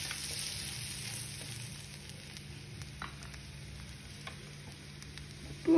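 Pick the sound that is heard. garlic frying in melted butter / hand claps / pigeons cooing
garlic frying in melted butter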